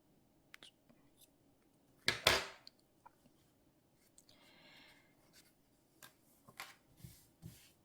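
Scissors snip through yarn for a crochet doll with one crisp, close cut, followed by quiet rustling and light handling of the work.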